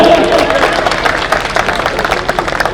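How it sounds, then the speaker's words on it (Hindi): A crowd at a Delhi election rally claps over a loud, continuous roar of voices, and the applause keeps going without pause. "ताली बजा भैया।"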